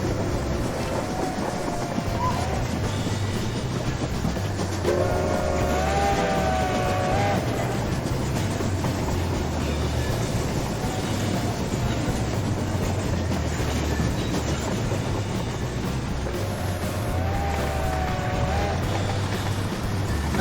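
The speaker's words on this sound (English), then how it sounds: "Once again, we have to let that train through." Train rolling along rails in the Rolling Line train set simulator game, a steady continuous rumble with rhythmic wheel clatter and occasional whining tones, close and loud, with no talking.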